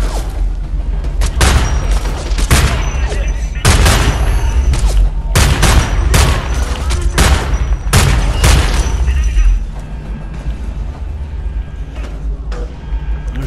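Gunfire in the video game Homefront: The Revolution, with loud bursts of shots and booming impacts clustered through the first ten seconds and then easing to scattered quieter shots.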